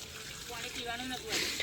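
Water from a motor pump gushes and splashes at a village home, a steady close rush that swells near the end, with voices talking over it.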